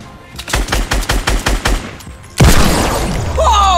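A rapid burst of about eight close, loud gunshots in even rhythm, then a sharp louder blast followed by a lingering whoosh and a whistling tone, in a real-life Fortnite-style game.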